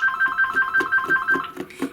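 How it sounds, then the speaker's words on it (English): A telephone rings with a steady electronic warble of repeated pulsed tones, clear and fairly close, before the ringing breaks off. "going to go answer the phone"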